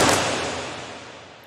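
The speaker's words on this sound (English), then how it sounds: "the sound consists mainly of fireworks recordings that I made." A burst of fireworks recorded with a high-pass filter, heard as one loud, hissy crack-like blast that fades away over about a second, with no talking.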